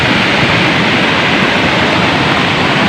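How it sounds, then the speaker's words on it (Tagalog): A washing machine runs during a flood, a steady loud broadband rush with no breaks or distinct cycles, alone without voices. "Washing machine lagi na."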